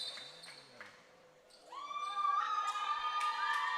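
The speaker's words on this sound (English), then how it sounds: "Why are they cheering?" A crowd at a girls' high school basketball game swells into loud cheering and shouting, preceded by quieter arena noise and a few ball bounces.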